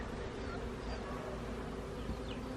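A dense, continuous buzz of many bees in a hive nucleus hums steadily and close, with no pauses and no voices.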